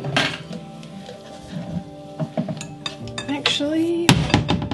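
A whisk clinks and scrapes against a bowl while mixing cookie dough, a busy run of metallic rattles and taps close up, with a faint tonal hum underneath.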